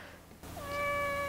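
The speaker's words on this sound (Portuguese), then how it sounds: "essa gata é folgada demais, gente" A cat gives a single clear, fairly loud meow near the end, drawn out with a steady tone after a short quiet stretch, heard inside a car set up as a play space.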